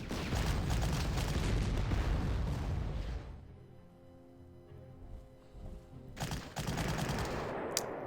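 Machine gun fire in Panzer Corps, a loud continuous burst for about three seconds that cuts off, then after a quiet lull a second burst resumes near the end.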